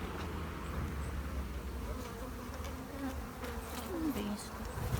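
Bees drone at a hive in a steady, dense buzz, with a few individual insects whining nearer and passing by over constant low background rumble.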